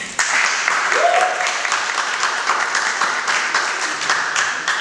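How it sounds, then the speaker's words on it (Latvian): Steady, dense applause fills the hall at a festival press conference in a concert hall, holding at an even, fairly loud level throughout, with a brief voice heard faintly over it. "Aplausi!"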